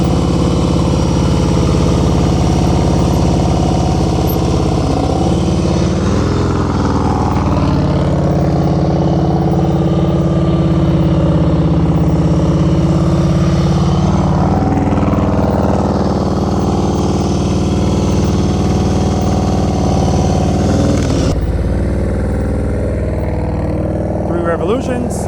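A motorcycle engine idles and rumbles steadily at low speed during slow-speed riding practice. The sound is loud and continuous and close, with slight rises in pitch as the throttle changes and a brief dip near the end.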